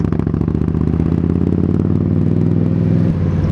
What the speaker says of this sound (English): this has obviously got an aftermarket exhaust on, is the sound of it